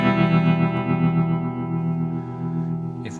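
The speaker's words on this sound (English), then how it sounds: "When I say tremolo, I mean the one we're using now, which is volume." Sustained distorted electric guitar chord through a Chase Bliss pedal's volume tremolo, with a gentle pulsing swell in loudness as the notes slowly decay, ending with a short pick scrape.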